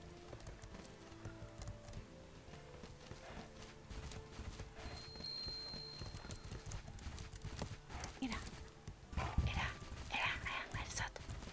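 Horse hooves clip-clop steadily in the Bella Sara video game, a continuous trotting rhythm with occasional whinnies, while a player chatters and whispers over it.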